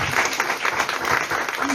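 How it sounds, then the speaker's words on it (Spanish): Brief applause at a public talk on teen pregnancy prevention, a short spell of crowd clapping with a voice faintly mixed in beneath it. "Fuerte el aplauso"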